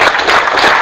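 A roomful of people at a workplace training session clap together in a brief, dense, loud burst of continuous hand clapping.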